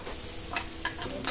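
Carrots sizzle in a frying pan for chicken liver pâté, a continuous close crackle with a few brighter pops and stirring scrapes.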